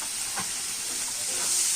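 Grated radish sizzles as it is sautéed in a pan with spices for a chutney, a steady close hiss of frying with a brief stir partway through.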